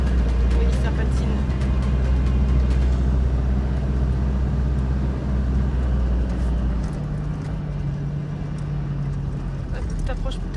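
A vehicle's engine labours loudly as its wheels spin in desert sand in Namibia, a sustained low roar that eases slightly later on, with people talking over it.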